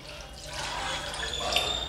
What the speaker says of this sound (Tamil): இப்போ 1 டம்ளர் தண்ணி விட